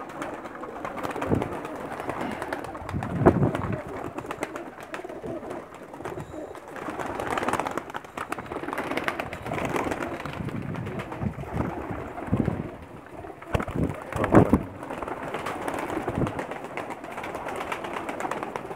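Many male pigeons cooing together in a loft, soft overlapping coos rising and falling irregularly at moderate volume, with faint background noise.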